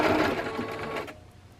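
Sewing machine running a straight stitch with a regular needle and cotton thread, a steady close whirring hum for about a second before stopping, leaving faint room noise.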